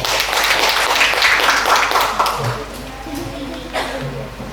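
Audience clapping for contestants at a women's Quran quiz competition in a village, a short burst of applause from a room of people that tapers off while a voice speaks over it.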